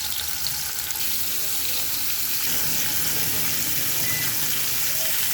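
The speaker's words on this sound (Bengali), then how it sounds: "তেল গরম হয়ে গেছে, এখন মাছগুলো দিয়ে দিচ্ছি।" Rohu fish pieces frying in hot oil in a frying pan, giving a constant, dense crackling sizzle at moderate level throughout without pause.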